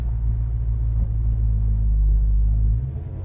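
A 1970 Pontiac LeMans rumbles loud and close on a drive, its steady low engine drone holding even before easing slightly near the end, with no talking.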